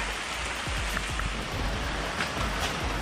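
Heavy rain pours steadily, a dense broadband hiss with scattered drops pattering on surfaces nearby, continuous and fairly loud throughout with no voices, during the setup of a tent-style car shelter for winter.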